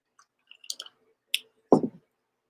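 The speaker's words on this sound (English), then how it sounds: "I'm gonna drink some water over here." A person drinking water while seated, a few faint clicks and wet mouth sounds followed by a single louder gulp near the end, close and otherwise quiet.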